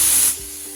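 Steak hitting a buttered griddle, a loud, close burst of sizzling hiss that quickly settles into a softer, steady sizzle.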